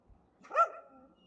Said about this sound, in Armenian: Հա, բայց այնտեղ ինչ կա, որ հաչում եք